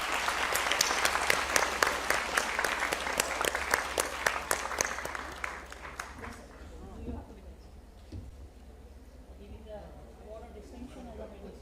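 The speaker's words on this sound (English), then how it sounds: "Let's give them a huge round of applause" Audience applauding at a university convocation ceremony, a dense burst of clapping that tapers off after about six seconds into quieter room noise and murmuring.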